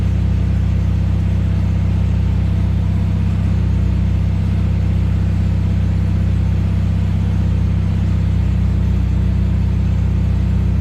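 A turbocharged Honda Civic D16 engine idles on a dyno, giving a loud, steady low rumble that holds even and unbroken throughout with no voices.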